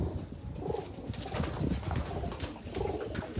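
A pigeon coos softly a few times in a low repeated pattern, with rustling and handling noise close by throughout.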